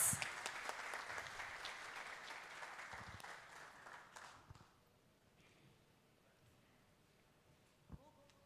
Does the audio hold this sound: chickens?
no